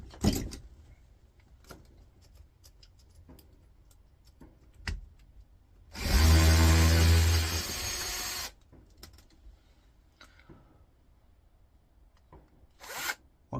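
A power tool fitted with an adapter whirs in one loud burst lasting about two seconds as it removes a nut from an electric skateboard, with faint clicks and handling noises before and after.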